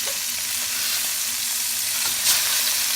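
Fish frying in a pan for pesang isda, turned over partway: a loud, steady hiss of hot oil with a brief louder sizzle near the end, close up, with no talk.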